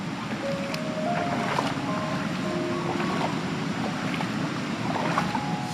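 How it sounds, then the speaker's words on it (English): Distant rush of the Giant's Bathtub waterfall at Matthiessen State Park, running heavy with high water, a steady broadband roar holding level throughout with faint tonal chirps on top. "That waterfall way back in the background, that is the Giant's bathtub."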